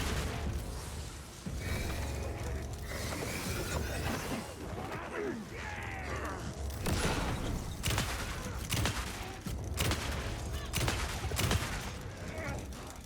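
Shotgun blasts in a video game, repeated loud booming shots across a dense, noisy game mix with explosions and clatter, a voice speaking at times.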